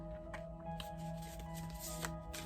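Oracle cards being shuffled and drawn by hand, a steady papery riffle and slide of cards close up, with soft flicks throughout and no talking.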